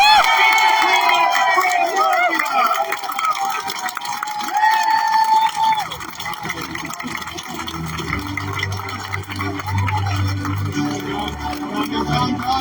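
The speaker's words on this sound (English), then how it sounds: "let's give it up for John Rustad" A crowd at a political rally for Conservative Party leader John Rustad cheers and applauds loudly, a dense sustained roar throughout with shouting mixed in, swelling and continuing without a break.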